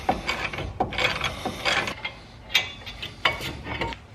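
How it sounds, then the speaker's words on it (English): A ratchet with an 18mm socket works a brake caliper bracket bolt off the factory spindle of a 1999–2007 2WD Chevrolet Silverado, giving repeated quick metallic clicking strokes in an uneven rhythm, close up and without talk. "in order to remove this brake caliper bracket here away from the factory spindle, it takes an 18mm socket"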